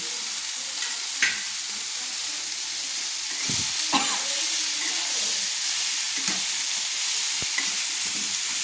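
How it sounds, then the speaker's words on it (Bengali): Fried potato pieces tumble into a soybean curry in a hot pan and are stirred through, with a steady oil sizzle underneath and scraping, clattering stirs breaking in now and then, close and alone. "ভেজে রাখা আলু টুকরোগুলোকে দিয়ে দিচ্ছি সোয়াবিনের মধ্যে"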